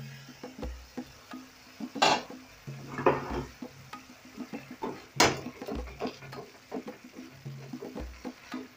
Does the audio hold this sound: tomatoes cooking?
yes